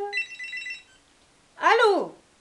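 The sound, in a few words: telephone ringing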